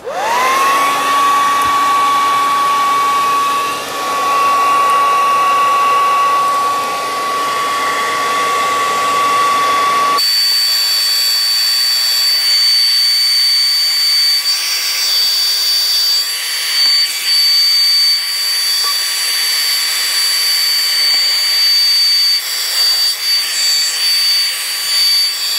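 A hot-air blower heats a part of a refrigerator ice maker with a steady, loud whine and rushing air. Partway through, the tone shifts abruptly to a higher, thinner pitch and keeps running.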